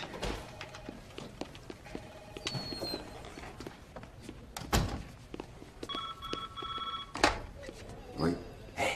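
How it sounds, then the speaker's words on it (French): A telephone rings in repeated short electronic trills, mixed with knocks and thuds in a room, at moderate loudness. "Hé, téléphone."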